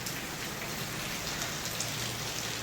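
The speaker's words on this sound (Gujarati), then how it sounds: "જોરદાર વરસાદ ચાલુ છે, તેમ કે ચોમાસું હોય એમ જ." Heavy monsoon rain pours outside a factory in the afternoon, a dense, steady hiss of drops hitting surfaces with no pauses and no voices.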